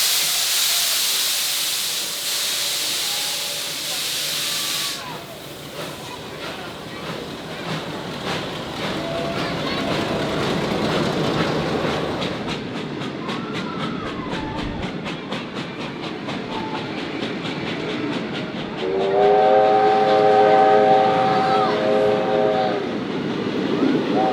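Steam locomotive 707 rumbles along steadily with hissing steam, and a loud whistle sounds near the end, with faint voices in the background.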